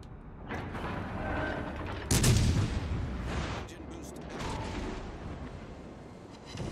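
Warship guns in World of Warships Legends fire with heavy booms and rumbling shell blasts at mid distance, one big close hit standing out, while a voice talks faintly underneath.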